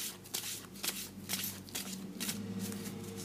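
Tarot cards are picked up and shuffled by hand in a series of quick papery riffles and soft slaps, at close range and fairly quiet, with a steady low hum underneath and no talking.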